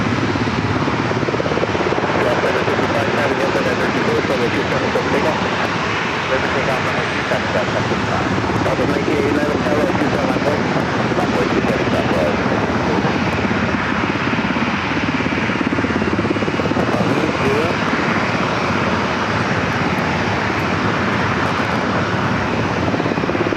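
A helicopter hovers over the bay near San Diego airport, its steady rotor and engine drone filling the air loudly and continuously, with wind noise mixed in.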